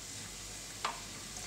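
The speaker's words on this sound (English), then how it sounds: "Just keep on stirring till it's all combined" Peppercorn steak sauce bubbling and sizzling in a pan as it is stirred, a steady close hiss with one brief louder scrape partway through.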